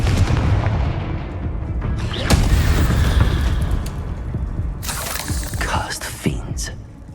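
A Confringo fire spell in Hogwarts Legacy goes off in a series of loud booms and crackling bursts over rumbling game ambience, with a voice speaking over the effects.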